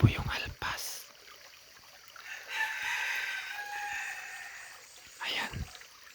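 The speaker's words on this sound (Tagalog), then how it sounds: "tumitilawag pa rin yung ating pangating labuyo" A decoy jungle fowl, a labuyo, crows and clucks at a hunting spot near 7 a.m., with a short bright call at the start, a longer drawn-out crow in the middle, and another brief call near the end, fairly close and without talk.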